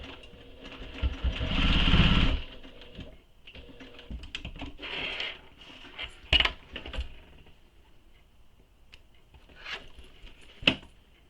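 A sewing machine runs in short bursts while back stitching a satchel, with a longer loud run near the start followed by quieter starts and stops and a few sharp clicks.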